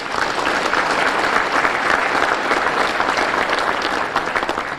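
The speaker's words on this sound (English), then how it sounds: "Please give me a round of applause for them." Loud, steady applause from a luncheon audience at a Monroe Chamber of Commerce event, many hands clapping continuously throughout.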